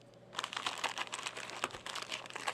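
Small plastic bags of Altair computer kit parts crinkle and rustle in close, rapid bursts of handling noise, with no talking.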